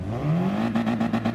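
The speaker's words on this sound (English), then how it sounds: "Revs are rising, waiting for the lights to go out." Race car engine revving at the start line in a racing video game, set at Sardegna, with a loud steady whine whose pitch climbs and then holds, pulsing rhythmically near the end.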